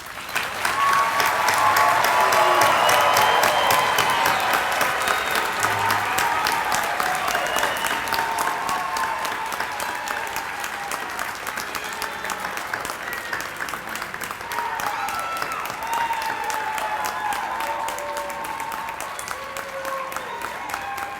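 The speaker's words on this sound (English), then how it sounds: "Please join me in applauding and recognizing these graduates" A large audience at a December 2014 PTC graduation ceremony applauds standing graduates, steady sustained clapping filling the room for over twenty seconds, loudest early and easing slightly toward the end.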